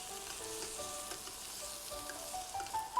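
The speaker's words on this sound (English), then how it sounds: "I brown the oxtail pieces until each side is lightly but evenly seared, before the bottom of the pot starts to burn." Oxtail pieces browning in a stovetop pot, giving a steady, close sizzle and crackle of searing meat that continues without pause and without any voices.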